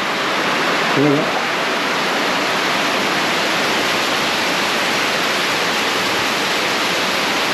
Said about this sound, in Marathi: पत्र्यामधून आहे ना पाणी येतं खाली.